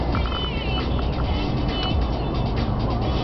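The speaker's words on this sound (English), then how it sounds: "we're stuck in traffic" Steady low road rumble from inside a car stuck in slow traffic near a carpool lane, with a continuous engine and tire drone and faint voices now and then.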